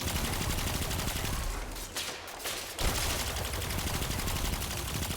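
Weapon fire in the Destiny 2 Lost Sector The Quarry, loud, dense blasts and rapid shots running almost continuously, with a brief lull near the middle before the barrage resumes.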